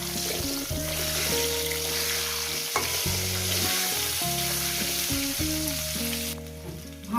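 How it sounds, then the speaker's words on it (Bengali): Drumstick (sajne) stems frying in a pan with fish curry base, a steady close sizzle with intermittent stirring and scraping clatter throughout, no talking. "আরও আমি 2 মিনিট ভেজে নেবো ডাঁটাটা"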